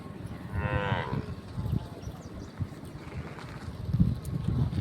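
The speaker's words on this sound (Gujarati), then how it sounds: "ગાયો ભેંસો પણ પાણી પીવા આવે છે" A cow gives one drawn-out moo near a stepwell water trough where cattle and buffaloes come to drink, over low rustling, shuffling and outdoor wind noise without talk.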